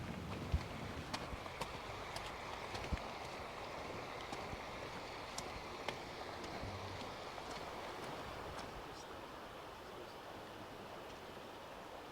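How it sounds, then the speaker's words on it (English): The River Ogmore flows at a distance, a faint, steady wash of water beneath a quiet roadside near a footbridge, with a few light clicks and no talking. "you can hear the River Ogmore"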